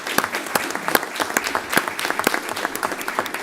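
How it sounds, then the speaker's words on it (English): An audience at a county commission meeting applauds, a dense, steady burst of clapping from many hands in the room, fairly loud and without pause. "We applaud you, sir."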